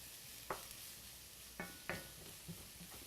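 Garlic, shallots and onions fry quietly in a pan with a soft steady sizzle, broken by a few sharp scrapes and clinks of a utensil stirring against the metal.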